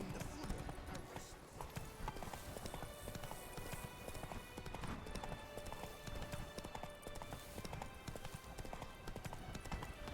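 Horse hooves galloping in The Witcher 3, a steady rapid clip-clop rhythm at low volume, joined by a low voice.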